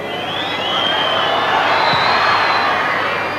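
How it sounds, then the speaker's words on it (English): A stadium crowd at a 1992 Leinster versus Australia rugby test match boos the Australian kicker. The jeering swells into a broad, sustained roar with high whistles running through it, then holds steady. "ignoring, as he should, although it's difficult, some rather ill-natured booing"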